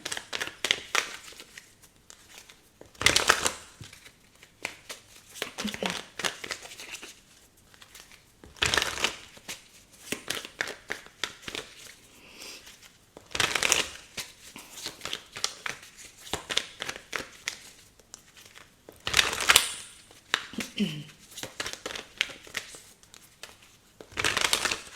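A tarot deck is shuffled and cards are drawn from the top, bringing repeated bursts of riffling, slapping and rustling card noise close by, separated by short quiet gaps, with no talking.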